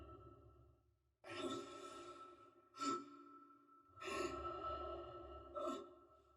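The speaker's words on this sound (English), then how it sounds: "when Isaac was sprinting or injured, you would hear additional grunts to emphasize his level of exertion" Isaac's breathing and exertion grunts in the Dead Space remake: four strained, breathy exhalations and effortful groans, close and fairly quiet, separated by brief pauses.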